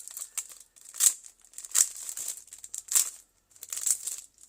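Paper crinkles and rustles in close, uneven bursts as sheets are handled, with brief quiet gaps between the movements.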